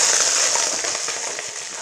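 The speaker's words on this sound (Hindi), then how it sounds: "इसमें थोड़ा सा ऑयल ऐड करेंगे। ऑयल डाल लिया है। अब ये इसमें शिमला मिर्च ऐड करेंगे।" Capsicum dropped into hot oil on a tawa, a dense, loud, continuous crackling sizzle that fades slightly over a couple of seconds, no voices.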